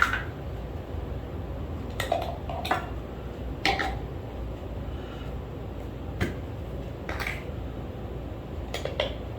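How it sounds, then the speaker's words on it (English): A few sharp clicks and scrapes of a knife prying used deodorant out of its plastic stick tray, spaced irregularly over faint room noise. "I'll just take the knife and just pop out these units out of here"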